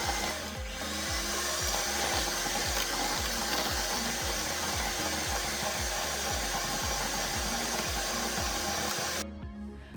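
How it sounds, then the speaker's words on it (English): Continuous close-up whirring and scraping from mixing light brown sugar and white sugar into butter for cookies, steady and loud for nearly the whole stretch with a rhythmic pulsing churn, cutting off abruptly near the end. "take your light brown sugar and your sugar and mix them into your butter until it's nice"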